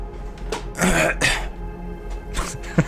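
A voice imitates a feeble cough, a few short breathy rasping bursts separated by brief pauses.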